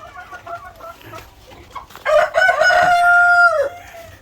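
Chickens, including laying hens, cluck softly in a farmyard before a rooster lets out one loud, drawn-out crow near the end, close and clear with no talk.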